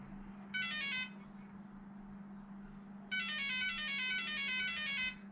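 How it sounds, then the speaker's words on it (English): Electronic speed controller on a Traxxas RC car sounds calibration beeps at power-up, a short burst of rapid high tones followed by a longer run of repeated beeps, over a steady low hum. "power it up. You're going to hear some funny beeps."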